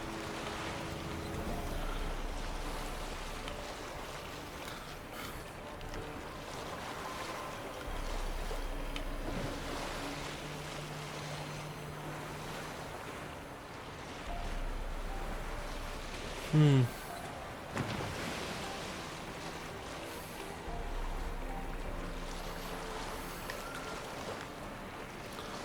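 A boat gliding over the sea in The Witcher 3, with continuous waves and wind against the hull beneath game music. A brief sharp effect rings out midway, and a voice talks lightly over parts of it.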